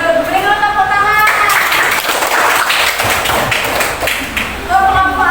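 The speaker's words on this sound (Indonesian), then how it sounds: "Beri dulu tepuk tangan." Classroom applause from pupils, a dense burst of clapping lasting several seconds, loud and close, with a teacher's voice talking briefly before and after.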